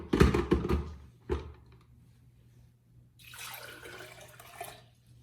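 Warm water, about one and a half cups, is poured into a kitchen blender jar, a steady splashing pour lasting a couple of seconds after a few clunks of handling the container, close and moderately loud.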